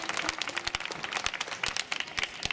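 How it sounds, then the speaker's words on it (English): Audience applause at a Ratha Yatra stage event, dense scattered clapping from a crowd filling the whole stretch without a break, moderately loud and steady. "Massive round of applause for them, please."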